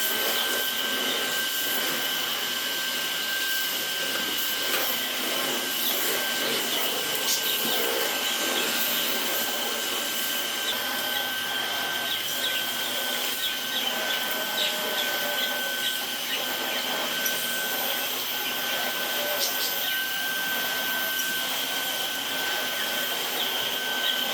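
A Dyson DC49 digital cylinder vacuum cleaner runs steadily with a high-pitched whine and broad airy roar, unbroken and close, with no talk over it.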